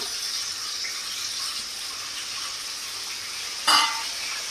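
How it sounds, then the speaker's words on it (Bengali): Cashews and raisins frying in oil in a pan while being stirred, a steady close sizzle with a sharp clatter of the spoon near the end and no voices. "তো এবার এটাকে ভালো করে আমি নাড়িয়ে দেব কাজু বাদাম আর কিশমিশটাকে।"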